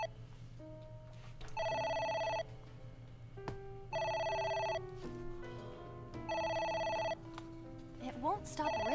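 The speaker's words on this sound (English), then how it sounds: "It won't stop ringing." A phone in the game AI: The Somnium Files rings in repeated electronic bursts, three long rings separated by pauses, over quiet game music.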